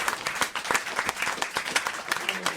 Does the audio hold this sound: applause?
yes